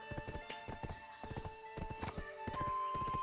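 A horse's hooves clip-clop steadily while it is ridden in Black Desert Online, a quick, even rhythm of close thuds over a low ambient hum, with no talk.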